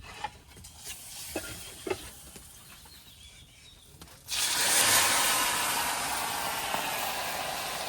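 Fish without masala drops into hot oil in a pan and sizzles loudly and steadily nearby after a quieter stretch of faint clicks and kitchen noise.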